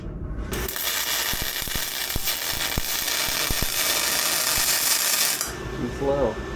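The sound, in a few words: aluminum welding with ARCCAPTAIN spool gun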